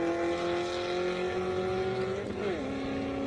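Race cars roar down an airstrip drag strip in a Prelude versus Corvette run, a loud sustained engine note that holds steady and then drops sharply in pitch as a gear change or pass occurs.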